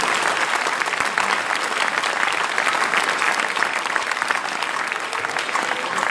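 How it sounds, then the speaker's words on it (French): A crowd at a New Year's wishes evening gives the event staff sustained, even applause, dense clapping from many hands that holds steady throughout without any talk. "Vous pouvez les applaudir."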